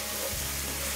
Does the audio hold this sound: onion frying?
yes